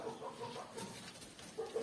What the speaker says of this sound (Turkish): İki tane tavuğumuz, bir tane horozumuz mevcut.